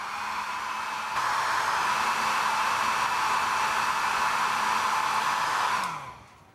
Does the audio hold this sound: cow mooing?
no